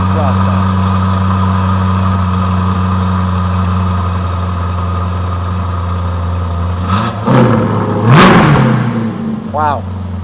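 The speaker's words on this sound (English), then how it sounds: "PJ, I would call this a healthy exhaust sound." A Corvette Stingray fitted with a Corsa exhaust idles with a deep, steady rumble, then revs sharply twice near the end, loud and close, as people react briefly in the background.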